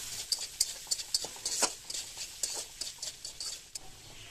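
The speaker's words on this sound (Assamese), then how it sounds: "এতিয়া আদা ৰহুনখিনি মই ইয়াত দি দিলোঁ" Ginger and garlic frying in a wok over lowered heat, with a faint sizzle and a quiet, regular series of scraping, clicking stirs close by.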